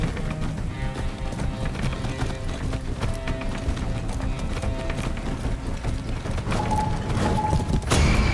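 Horse hooves clip-clop steadily at a run in the video game Far Cry 6, a continuous rhythmic clatter over dense game music and mechanical noise, with a brief sharp burst near the end.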